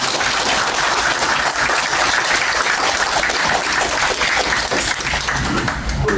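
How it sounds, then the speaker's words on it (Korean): Steady, dense applause from a large crowd fills a Buddhist ceremony hall, sustained loudly for several seconds without pause. "스님의 이야기에 동의하시고 뜨거운 박수를 부탁드립니다."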